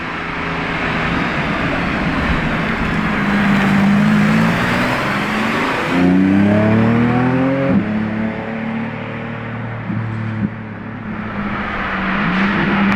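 Lamborghini Urus SE engine revving up loudly close by, a sustained roar that climbs through rising pitch sweeps, drops back and builds again, with no talk over it.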